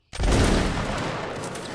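A musket volley in the video game Napoleonic Wars erupts as one loud, close ragged blast of many guns at once, decaying into a long rumbling tail.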